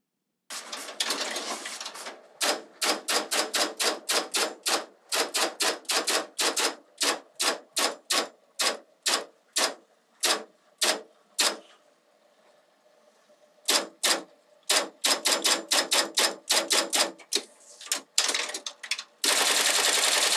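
An IBM model 024 card punch machine punches cards, rattling off rapid, close mechanical clacks in steady bursts, with a short pause before a final quick flurry.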